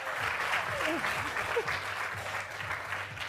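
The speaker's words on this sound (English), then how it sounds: "Let's give a big round of applause" An audience at a business talk on product-led sales gives a round of applause, a steady wash of clapping with voices talking and exclaiming over it.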